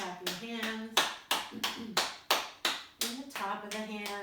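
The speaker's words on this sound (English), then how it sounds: "Come all the way down and clap your hands." Hands clap in a slow, deliberate rhythm during a healing yoga exercise, about a dozen sharp, close claps, with a voice softly speaking between them.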